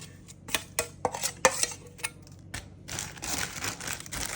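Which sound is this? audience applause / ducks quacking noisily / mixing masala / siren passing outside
mixing masala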